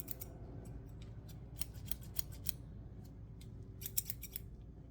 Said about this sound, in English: Go ahead and tell me which scissors you hear